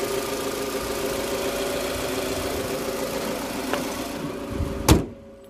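A 2008 Toyota Estima's 2.4-litre petrol engine idling with a steady, even hum, close up, with a sharp knock near the end before it cuts out.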